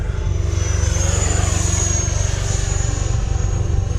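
An FMS F-16 electric ducted fan RC jet with a 70mm fan flies past, giving a loud, steady whooshing fan whine with a high tonal edge that rises and falls slightly over a few seconds, close and continuous.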